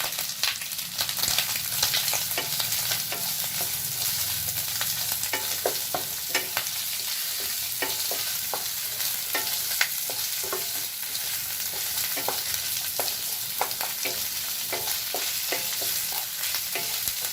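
Sliced onions sizzle in a hot pan for restaurant-style chili chicken, with repeated scraping stirs of a spoon against the pan over a constant frying hiss.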